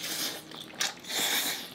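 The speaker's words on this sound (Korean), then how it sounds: "자 우선 면 먼저 바로 먹어보겠습니다." Seafood yaki udon noodles eaten while standing, with soft wet slurping and chewing bursts close to the mic, one sharper crunch near the middle, over a steady background hiss.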